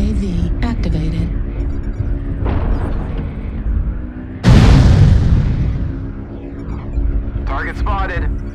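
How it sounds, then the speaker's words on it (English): Artillery strike explosions in a military shooter video game: one loud, close boom with a long decaying rumble, set among engine and aircraft noise, with game voice callouts in the background. "Artillery strike."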